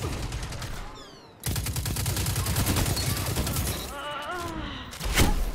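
Rapid automatic gunfire from the Destiny 2 video game, a dense continuous rattle of shots that pauses briefly and resumes, with a few sharp blasts near the end.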